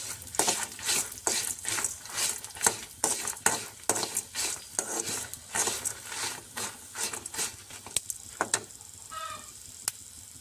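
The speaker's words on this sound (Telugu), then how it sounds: "నువ్వులు కూడా వేసుకొని ఫ్రై చేసుకోవాలి" Sesame seeds frying in a pan for a tamarind-leaf chutney, stirred with rapid repeated scraping strokes over a soft sizzle, close and clear, with the stirring slowing and fading near the end.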